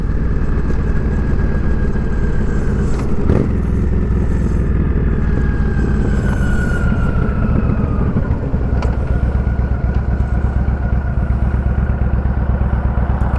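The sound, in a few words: Yamaha V-Star 1300 motorcycle riding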